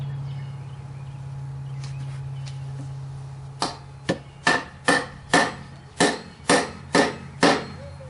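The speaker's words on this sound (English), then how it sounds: "And hammer your seal." A Ford Taurus 3.0L OHV front main seal being driven in with a hammer: after a quiet hum, about nine sharp metallic strikes at an even, steady pace, close and loud.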